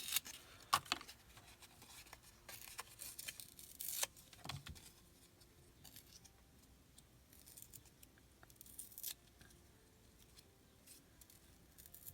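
Journal paper being ripped by hand gives a few faint, short tearing and rustling sounds with scattered handling noise, close but quiet and with no talk.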